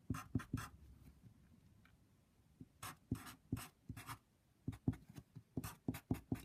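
An equation is written out by hand in quiet, close scratchy strokes. Short bursts of pen-on-surface marks come in an irregular rhythm, with brief lulls between them.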